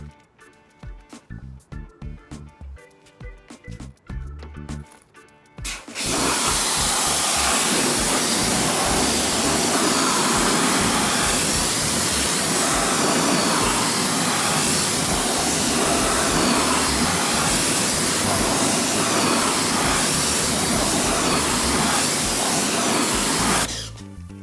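After a few seconds of choppy bursts, a steady, loud pressure-washer spray blasts car wheels for about eighteen seconds, rinsing off iron remover and brake dust with a broad hissing roar.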